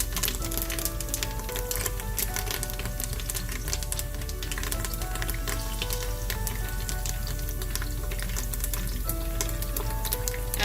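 Curry leaves sizzle and crackle in hot oil inside a pressure cooker, a dense, steady frying hiss dotted with sharp pops, close and fairly quiet.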